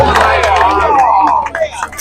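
Crowd at a Juab vs. Timpanogos varsity baseball game reacting to a strike call, a loud, sustained wave of groaning and booing voices from the stands that dies down toward the end.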